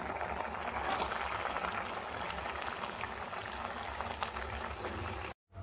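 Tamarind water curry coming to a boil for a peanut and cluster bean kari, a dense continuous bubbling and fizzing close by, steady throughout before a brief cut near the end.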